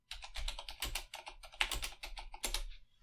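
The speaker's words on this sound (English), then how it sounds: "Let's do a little keyboard ASMR." Close, crisp keyboard typing recorded for ASMR, rapid clusters of clacky keystrokes with short pauses between bursts, loud and alone without speech.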